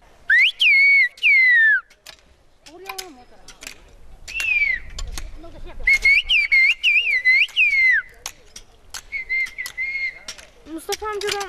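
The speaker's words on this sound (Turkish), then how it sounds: "Mustafa amcadan ıslıkla mısır istedim." Turkish whistled language from Giresun, used to call out a request for corn: loud, piercing whistled phrases with rising and falling glides, repeated in several bursts with short pauses between them.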